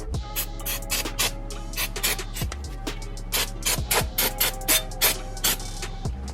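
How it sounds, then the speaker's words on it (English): Brake cleaner hisses in short bursts onto the front wheel hub of a 2017 Volkswagen Golf R during a wheel bearing job, the close sprays repeating at an uneven rhythm with faint clicks between them. "it's never a bad idea to use some brake clean and clean off your area"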